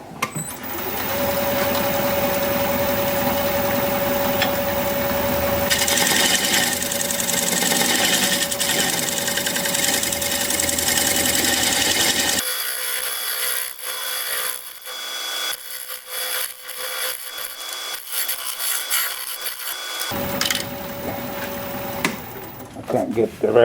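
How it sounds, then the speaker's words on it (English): A steel scraper held in a shear-scraping position rasps against a spinning wooden bowl on a lathe, a loud, sustained hiss under the motor's whine that cuts out briefly partway and then resumes. "About all I can do is shear scrape this."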